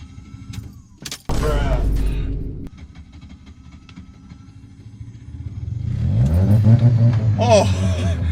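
A Mazda RX7 engine starting on a rainy mountain road: a sudden loud cranking burst, then a quieter idle, then the rotary engine catches and revs up strongly, close and loud.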